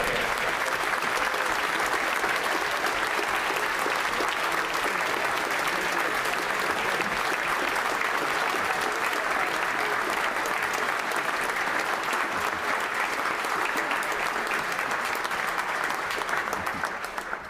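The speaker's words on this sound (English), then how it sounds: "And that's the only reason I allow clapping." Sustained applause fills the House of Commons chamber during Prime Minister's Questions, a dense, steady wash of clapping from a large crowd of MPs that holds at an even, loud level throughout with no speech over it.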